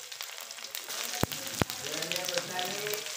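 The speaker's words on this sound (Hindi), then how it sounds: "जीरा को अच्छे से फ्राई करेंगे।" Cumin and garlic frying in hot oil for a spiced paneer dish, a steady close sizzle with two sharp knocks early on, then bubbling crackle that continues throughout.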